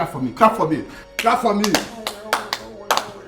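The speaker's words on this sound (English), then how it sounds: "Clap for me." A few close handclaps ring out between a man's speech in a domestic compound scene, short irregular claps mixed with his talking.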